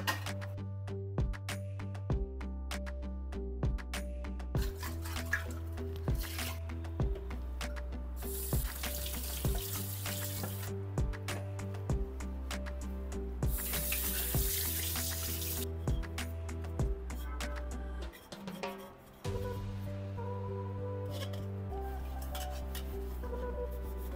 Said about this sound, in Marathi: कोमट पाणी आता मी ह्याच्यात थोडंसं घालणार आहे आणि मग परत एकदा स्वच्छ बाटल्या धुवून घेणार आहे